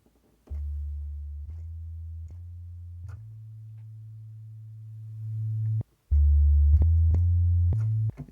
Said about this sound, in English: I might just pull up the old sine wave